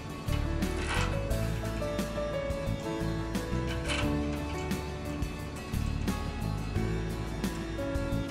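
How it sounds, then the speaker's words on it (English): A ratchet tightens the outer eight bolts on an Arimitsu pump in a cross pattern, with dense rapid clicking in repeated bursts, close and fairly loud, with no talk. "in a cross pattern, tighten the outer eight bolts"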